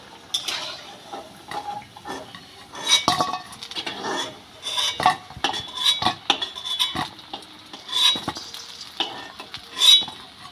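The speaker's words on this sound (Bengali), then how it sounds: "এইভাবেই আরও কয়েকটা ডালের বড়া ভেজে নেব" Oil sizzles steadily as chana dal fritters fry, with repeated scraping and clinking of a metal utensil against the pan throughout.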